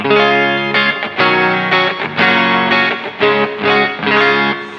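An electric guitar clean tone through a Kemper Profile Player plays a melodic run of sustained notes with a shimmering, effected tone, bright and close with a lush, slightly chorused sheen.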